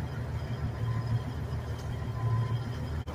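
A vehicle in its lowest granny gear creeps along at idle with the clutch out, giving a steady, moderately quiet low engine hum that ends with a brief click.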